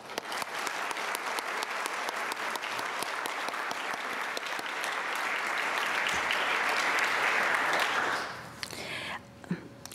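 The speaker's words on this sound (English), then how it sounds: "would you join me in applauding all these people that make us great?" Loud, sustained applause from the audience at a nonprofit awards event, with dense clapping that swells and then fades out after about eight seconds, leaving quieter room noise.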